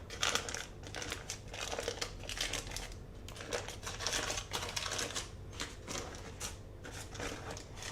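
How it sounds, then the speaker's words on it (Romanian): Parchment baking paper is peeled away from a baked walnut cake sponge, giving a run of crisp crinkles and rustles in uneven bursts, close and fairly quiet, with no talking. "îndepărtăm hârtia de copt"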